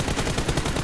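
Rapid bursts of automatic gunfire from a video game team deathmatch, close and loud, with shots overlapping in a dense, rattling stream.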